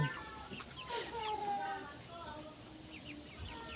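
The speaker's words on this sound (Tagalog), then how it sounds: "Update ko lang po kayo sa aking mga chicken." Backyard chickens cluck and chirp close by, a busy overlapping run of short calls with a higher squawk near the middle, over a soft outdoor background.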